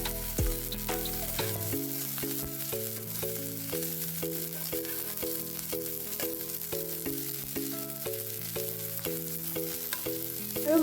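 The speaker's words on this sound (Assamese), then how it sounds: "ড্ৰাই ফিশ খিনি মই অকমান ফ্ৰাই কৰি লম" Dry fish sizzles and crackles in hot oil in a kadhai for Assamese-style cooking, a steady frying hiss running under a bright melodic music track.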